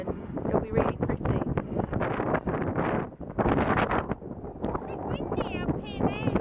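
Strong wind buffets the microphone high up on a bell tower above a city river, making loud continuous rumbling gusts with a short lull midway and a voice speaking through it.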